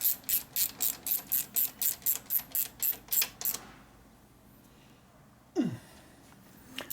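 A 1/4-inch drive ratchet clicks in a quick, even run of about a dozen crisp strokes at close range, then falls quiet; a single squeaky scrape follows near the end.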